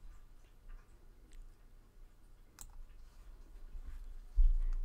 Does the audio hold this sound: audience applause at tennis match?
no